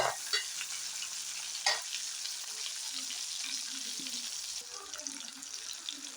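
Fenugreek, garlic and shallots frying in oil for a fish curry, a steady close sizzle with occasional stirring scrapes and a brief clink.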